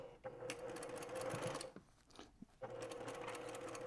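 A sewing machine stitches quilt seams in fast, steady whirring runs, pausing briefly and then starting up again, close and fairly quiet.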